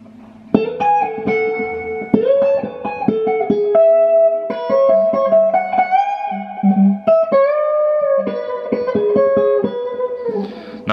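Electric guitar plays a melodic solo lick from a song, in its live at the O2 London version, with bent and sustained notes, quick runs and pauses. The guitar is close and clean-toned, with no talking.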